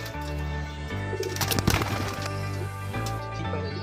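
A white-headed male Madras pigeon in a Kolkata loft gives a soft, low cooing, close and fairly quiet over a steady hum, with a brief rustle of feathers or handling midway.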